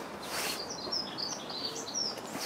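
Birds sing in a garden of snowdrops and snowflakes on a sunny morning, with several bright, high chirps and trills overlapping continuously at moderate distance against a soft background hush.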